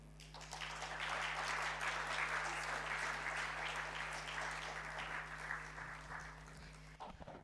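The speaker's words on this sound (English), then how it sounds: "I think she deserves a bigger round of applause, guys" Applause rises from an audience after a speaker finishes, a dense, even wash of many hands clapping steadily for several seconds before it cuts off abruptly, with a low electrical hum underneath.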